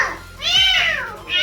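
A tiny rescued street kitten meows, one rising and falling high cry followed by the start of another, close and clear.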